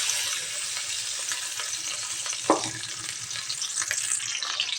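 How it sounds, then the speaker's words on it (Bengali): Chopped onions fry in hot oil in a heated wok, a continuous close sizzle with occasional stirring scrapes and one sharp clatter midway, with no talking. "পেঁয়াজ কুচিগুলা আমি বাদামি কালার করে ভেজে নেব।"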